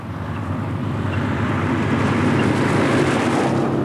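Citroën 2CV on the motorway, a loud, steady drone of engine and road and wind noise heard from inside the car, unbroken for the whole stretch with no talking.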